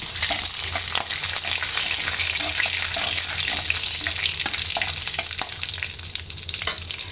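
Nigella seeds (kalo jire) sizzling in hot oil, a loud continuous hissing crackle close up, with faint stirring taps, no voices.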